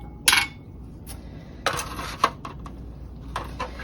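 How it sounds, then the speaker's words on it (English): A magnetic stir rod drops into a container on a stir plate in a lab, giving a few sharp glassy clinks and taps close by, spaced over a few seconds against quiet background. "so I'm going to be adding the stir rod, if it wants to come off the magnet"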